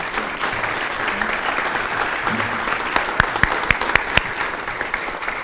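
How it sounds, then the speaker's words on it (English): Hearty audience applause at a mayor's prayer breakfast for Youth First, a dense continuous wash of clapping with a few sharp, close claps standing out toward the end. "One more round of applause for Dr. Shar Michael Bust."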